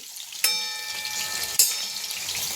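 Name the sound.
chicken lollipops deep frying on low flame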